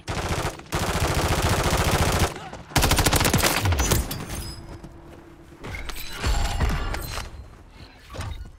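Call of Duty gunfire comes in long, loud automatic bursts, rattling rapid-fire volleys broken by short gaps, with mechanical clanks and a brief shattering sound, all close and dominant.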